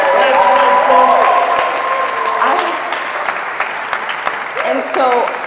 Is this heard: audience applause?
yes